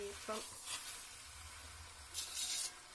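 Chicken pieces stir-fried in a pan for a Kerala chicken thoran with roasted coconut, a steady soft sizzle with a few louder bursts of frying noise, close by.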